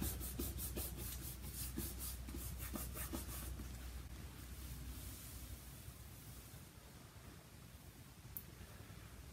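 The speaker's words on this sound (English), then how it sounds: "Rub the edge." A soft, steady rubbing of a fingertip along the edge of a paper weave, pressing it down onto glue, heard close up and quiet, with a few light scratchy strokes at the start.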